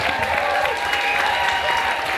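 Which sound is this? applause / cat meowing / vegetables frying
applause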